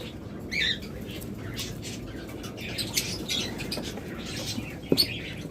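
Caged lovebirds at a bird breeder's nesting setup give scattered squawks and chirps with brief bursts of wing flapping over a constant busy bird chatter, fairly close.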